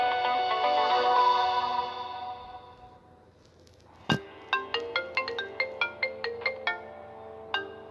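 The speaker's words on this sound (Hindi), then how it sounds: "हीरा के दादाजी मिस्टर कपूर का फोन आ रहा है।" A phone ringtone plays a sustained melodic tone, then after a sharp hit switches to a series of bright, evenly spaced plinking notes.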